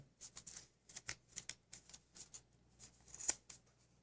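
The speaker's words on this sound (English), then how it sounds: "So we can actually fold this in, like so." Paper being folded and creased for an origami cat, a run of soft, quick crinkles and taps at close range, faint and steady, with no talk.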